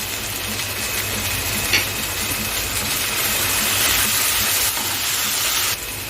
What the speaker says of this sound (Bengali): এগুলোকে আমি ভালো করে ভাজা করে দিচ্ছি